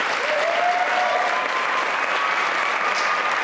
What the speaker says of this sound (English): another warm, not so warm, round of applause for Dorothy.